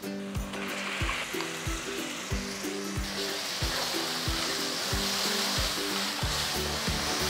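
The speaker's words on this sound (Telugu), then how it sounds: "ఇప్పుడు నేను ఈ రుబ్బి పెట్టుకున్న ఉల్లి కారాన్ని దీంట్లో వేయబోతున్నాను" Ground onion-chili paste for an ivy gourd rice dish sizzles in a hot pan, a steady close fry broken by regular rhythmic knocks from the stove or stirring.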